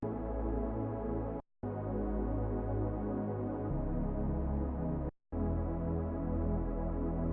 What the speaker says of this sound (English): it just sounds basically like a pad, like a dry pad sound